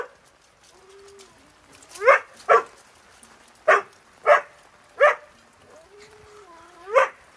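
Dogs at a dog training school on a rainy morning bark in a series of six sharp, loud barks spaced about a second apart, with soft whines and whimpers between them.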